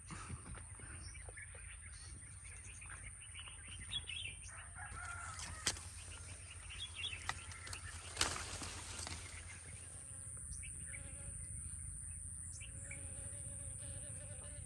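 Guinea fowl keep up repeated harsh calls at a moderate distance, over a steady background hum of insects.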